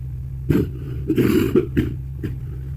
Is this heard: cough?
yes